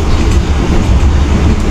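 New Generation economy class train on the Tegal to Jakarta route riding the rails, a loud close rumble of wheels with rhythmic clatter heard from on board, no talking.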